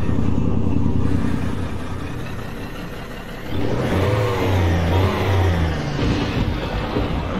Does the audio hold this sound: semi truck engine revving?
yes